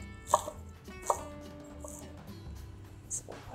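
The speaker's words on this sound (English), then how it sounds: "You can hear that it's nice and crispy and fresh." Crisp, fresh lettuce leaves are sliced with a knife in a few separate crunchy cuts spread out over a quiet stretch. The cuts are close and fairly soft, and there is no talking.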